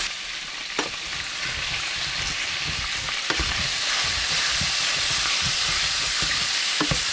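Pigs feet pork pieces fry in an oiled pan with a steady, loud sizzle and crackle, occasional sharper pops and stirring clatters cutting through, close up and without voices.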